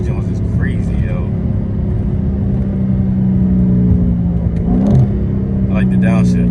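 A Dodge Challenger Scat Pack engine downshifting on a drive, a loud steady rumble inside the cabin that surges briefly as revs rise, with people talking over it.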